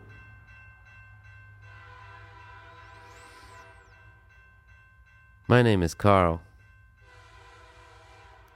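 A train's horn blares in two loud, close blasts over the steady rumble of the rolling train, with someone speaking briefly before the horn.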